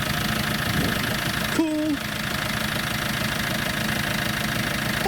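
A Fiat diesel engine in an Iveco Daily van idles steadily after its first start in ten months, a continuous knocking rumble that fills the clip while a voice speaks briefly over it.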